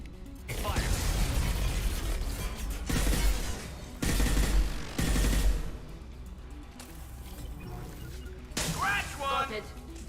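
Sci-fi weapon fire and impacts in Mass Effect Legendary, with heavy blasts and crackling shots in repeated loud bursts over a steady battle rumble, while voices talk intermittently.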